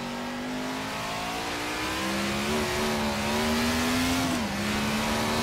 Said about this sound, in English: Just that slight bit of transmission whine.